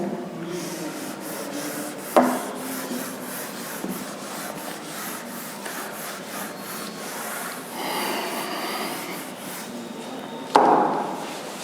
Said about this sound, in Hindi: इसको हम रब कर दे रहे हैं